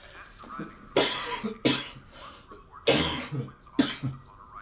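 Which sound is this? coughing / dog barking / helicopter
coughing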